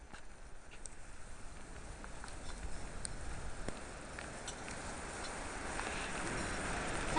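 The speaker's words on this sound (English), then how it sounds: "It's raining." Rain patters steadily on a camp tent during a Colorado elk hunt after a night of snow, a dense, even hiss of drops that grows slightly louder toward the end.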